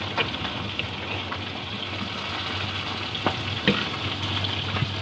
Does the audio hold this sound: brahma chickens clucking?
no